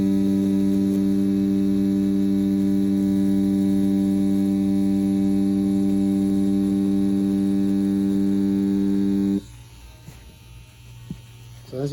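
A tattoo machine fitted with a CNC bug pin 9-round liner needle hums loudly and steadily with a strong buzzing drone, then cuts out near the end, leaving quiet room sound.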